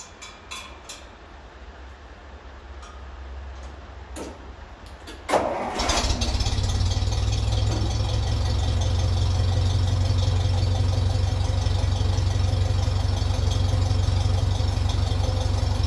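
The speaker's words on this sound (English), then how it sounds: "I'm going to give it another quick start and see if it's any better." A 1957 Ferguson 35 tractor running on TVO, just fixed of an exhaust leak, gives a few faint clicks and cranking sounds, then catches abruptly and settles into a loud, steady, close idle that fills the rest.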